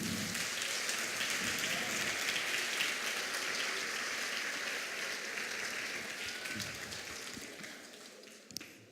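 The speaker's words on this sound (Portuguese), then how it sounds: "você pode dar um aplauso ao Senhor Jesus?" A church congregation applauds for Jesus, a dense wash of clapping that holds steady and slowly fades toward the end, with one sharper sound just before it stops.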